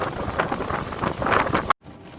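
Strong storm wind gusts up to 45 miles an hour buffet the microphone with a loud, roaring rush that swells and surges, then cuts off abruptly near the end.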